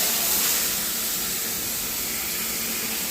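Chicken fries with curry leaves in a hot pan, giving a steady, close, loud sizzle and hiss that runs unbroken with no talking.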